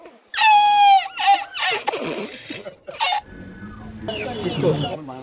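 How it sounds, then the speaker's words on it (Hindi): An aseel rooster calls loud and close with harsh clucking and squawking notes, while someone talks over and between the calls. "ये असील मुर्गा है बिल्कुल मेरे भाई।"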